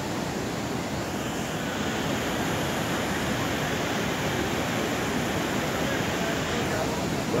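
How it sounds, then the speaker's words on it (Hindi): Fast-flowing river near Manikaran rushing past, a loud, broadband, unbroken roar of churning water heard close by and steady throughout, with no pauses or distinct splashes. "ये देखो जा रहा पानी, स्पीड में जा रहा है बहुत।"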